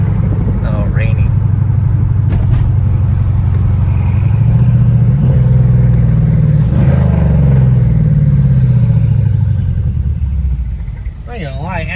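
A 700 hp Mercedes CLS63 AMG accelerates hard, a loud cabin-heard engine roar rising and falling through gears with turbo whoosh, while voices talk over it.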